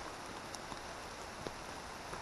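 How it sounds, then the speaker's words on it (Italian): Rain falling in a beech forest in one of Italy's rainiest regions, a soft, steady patter with scattered individual drops landing nearby, quiet and continuous with no voices. "Questo è il rumore della pioggia, quello che sentite."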